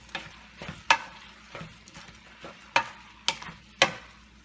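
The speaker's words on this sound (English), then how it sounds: "Let's stir fry." Cooked spaghetti stir-fried in a pan for a vegetarian dish, with a soft continuous sizzle broken by sharp scraping strokes of a utensil roughly every half second.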